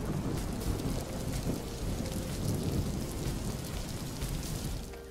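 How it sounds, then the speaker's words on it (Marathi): Heavy rain pours outside with low thunder rumbling underneath, a dense, loud, unbroken roar lasting throughout. "बाहेर हा मस्त पावसाचं वातावरण"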